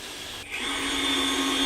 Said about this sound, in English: Giving it a bit of a sand on the sander.